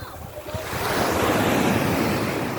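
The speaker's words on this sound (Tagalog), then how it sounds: "Alon, nabutin tayo ng alon." Ocean surf rolling in at Laiya, Batangas, a steady, loud wash of breaking waves that swells after the first second and holds as a continuous roar with wind buffeting the microphone.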